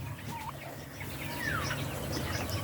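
Soft high chirps and peeps from turkey chicks, a couple of brief rising calls over a low steady background hum, faint and close.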